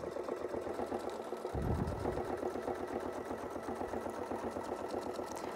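A sewing machine stitches quilting shapes guided by Westalee Artisan Curve templates, giving a close, steady, rapid mechanical rhythm throughout with no talking.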